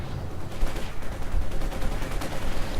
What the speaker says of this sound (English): Now he's trying to wreck the anti-tank guns with assault rifles.